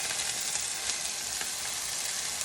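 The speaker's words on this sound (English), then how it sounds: "So we want to saute this chicken." Chicken sautéing in a hot pan alongside gnocchi being prepared, a steady, dense sizzle and crackle of frying oil, loud and continuous with faint stirring ticks and no talking.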